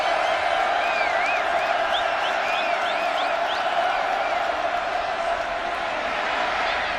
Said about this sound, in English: the crowd come to their feet, and it's the opposing fan base's crowd making some noise here